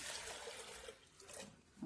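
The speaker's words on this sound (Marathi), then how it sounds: "भरपूर टाकायचं पाणी." Water splashes and trickles steadily into a pot of cooked dal for sambar, a close pouring sound that wavers in strength and swells again at the end.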